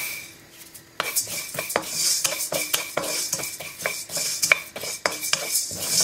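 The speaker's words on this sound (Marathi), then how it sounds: "आता आमी दानिया भाजया" Coriander seeds dry roasting in a pan for Goan garam masala, heard as repeated metallic scrapes and clinks of a spoon stirring against the pan, close and steady for several seconds with no talking.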